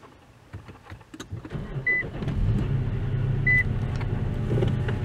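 An Infiniti M56 engine push-button starts with a low rumble that builds and settles into a steady idle, preceded by faint clicks and short electronic beeps.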